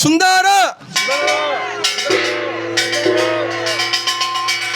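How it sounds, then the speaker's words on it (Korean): A small Korean kkwaenggwari gong and a deep jing gong are struck hard at an outdoor protest rally. Bright metallic clangs ring out with a sustained low gong hum beneath, after a loud shouted slogan. "신명난 꽹과리 소리와 엄중한 징소리가 울려 퍼졌습니다"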